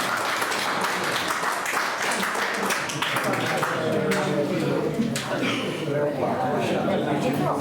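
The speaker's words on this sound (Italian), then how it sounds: "Un applauso" An Italian audience breaks into applause for a singer. The clapping is strongest at first, then fades as voices and chatter rise over it for the rest of the stretch.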